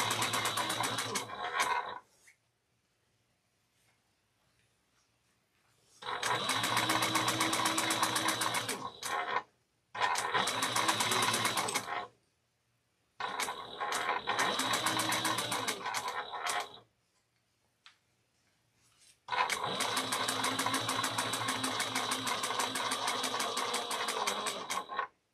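A Brother sewing machine stitches a backpack in several sustained bursts of fast, steady mechanical whirring and clatter, separated by short pauses of near silence, with no talking.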